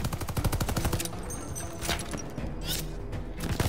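Heavy gunfire from massive guns in the Call of Duty: Vanguard video game: a rapid, dense burst of booming automatic shots up front, followed by a rumbling, continuous barrage with deep low-end weight and no audible talk.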